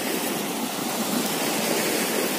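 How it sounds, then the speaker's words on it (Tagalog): Sea waves rolling onto a windy shore at a local beach, a loud unbroken rushing wash that fills the whole moment, with no voices. "yung maririnig mo talang talaga dito yung maalon. Yan yung alon."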